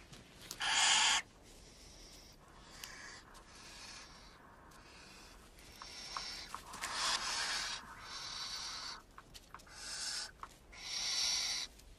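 A barn owl calls with several harsh, hissing screeches spread over about twelve seconds, some loud and drawn out, others short, with quiet gaps and rustling between them and no talking.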